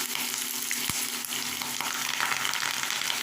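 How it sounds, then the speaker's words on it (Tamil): Curry leaves sizzle and crackle in hot oil for lemon pickle, a steady, loud frying hiss with a few sharp pops and no talk. "இந்த டயத்தில் நம்ம கருவேப்பில் போட்டுக்கிறோம்"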